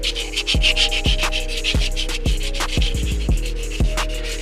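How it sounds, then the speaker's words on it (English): Rhythmic wet sanding strokes on a wheel rim scrape back and forth about twice a second, close up, over a constant low motor hum. "So I'm wet sanding."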